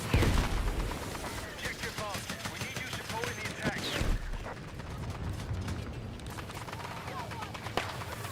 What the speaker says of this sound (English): This tank is getting absolutely fucking blasted.